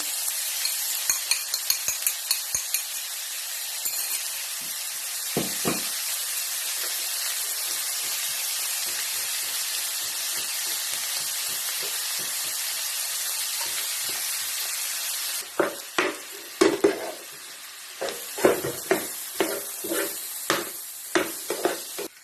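Eggs sizzle in a pan beside pushed-aside vegetables for egg fried rice, a loud continuous frying hiss, followed later by a run of sharp scraping and stirring strokes.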